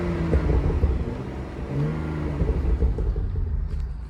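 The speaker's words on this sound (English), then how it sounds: "obviously you've got quite a bit of exhaust note as well." A 2015 BMW M235i coupe with a 3.0-litre engine and manual gearbox rumbles loudly nearby, its exhaust note rising and falling through repeated revs over a deep steady drone.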